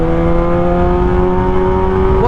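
A Kawasaki ZX6R 600cc inline-four superbike engine holds a loud, steady high-pitched tone close by, a sustained whine that rises slightly at the very end.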